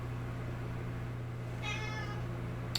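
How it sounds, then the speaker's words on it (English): A single short cat meow over a steady low hum of background noise, fairly faint and somewhat distant. "He's meowing to get out"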